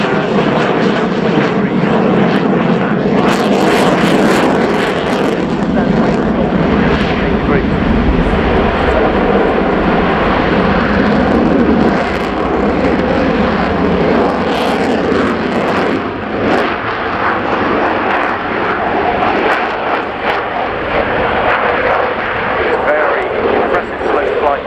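A Belgian Air Component F-16A jet flies an airshow display at RIAT 2016, producing a loud, continuous roar that swells and fades throughout. A commentator talks over it the whole time.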